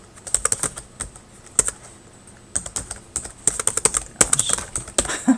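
Fingers tap out rapid, uneven bursts of keystrokes on a computer keyboard, close and crisp, with short pauses between clusters.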